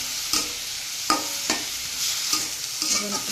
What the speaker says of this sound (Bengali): এটাকে নাড়াচাড়া দিয়ে